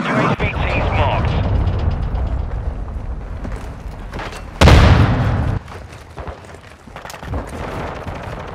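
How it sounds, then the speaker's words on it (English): A cruise missile strike in the video game Call of Duty Modern Warfare lands as one sudden, heavy, deep boom partway through, set against steady battlefield ambience and muffled radio-style voices. "Friendly cruise missile approaching target."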